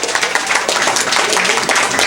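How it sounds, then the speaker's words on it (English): Audience clapping at a We The People political event in Carroll County, a dense, steady patter of many hands filling the room at close range without a break. "Now you can clap."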